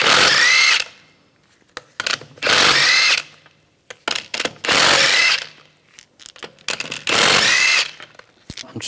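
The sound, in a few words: power tool removing wheel lug bolts with 17mm socket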